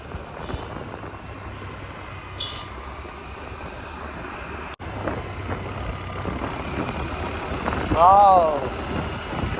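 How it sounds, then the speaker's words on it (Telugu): A tractor drives along a rural road near farm fields outside Nellore, its engine rumbling low and steady and growing a little louder as it nears, with a brief squeal near the end. "ఆ ట్రాక్టర్ అట్లా రావడం కానీ"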